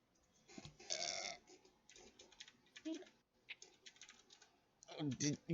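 Soft keyboard typing clicks away in quick, uneven bursts, close but faint, with a brief vocal noise near the end.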